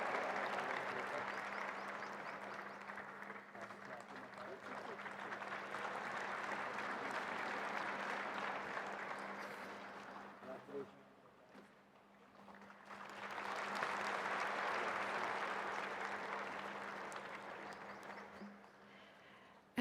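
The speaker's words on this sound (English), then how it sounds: "applaud them with a huge round of applause." A large crowd at a sports centre launch ceremony claps steadily for several seconds, dips briefly, then swells into another sustained round of applause.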